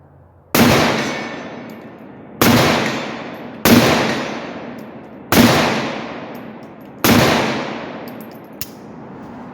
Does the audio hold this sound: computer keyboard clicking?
no